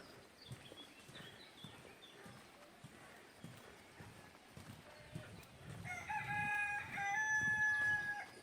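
Rooster crowing at a riverside farm pen in Ordes, A Coruña, among geese, ducks and goats; a loud crow rises in the last few seconds over background bird chatter and outdoor ambience.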